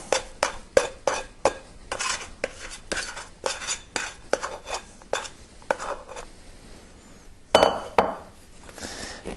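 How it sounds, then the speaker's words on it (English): Risen, wet, bubbly bread dough for no-knead bread scraped from a container onto a work surface, heard as a string of close scraping taps and clinks in an uneven rhythm with no talk. "I'm just going to scrape it out onto this surface"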